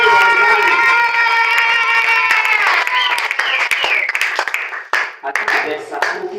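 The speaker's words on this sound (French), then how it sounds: "nous acclamons très fort pour la gloire de Dieu" Church congregation in Mbuji-Mayi, DR Congo, breaks into loud, scattered clapping that rises after sustained voices and singing, the applause crowded and close with voices still mixed in.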